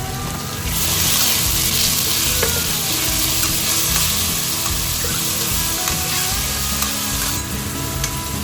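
Garlic and water-boiled meat sauce sizzle in oil in a wok over low heat for Sichuan boiled beef, a steady, close frying hiss with light stirring scrapes throughout.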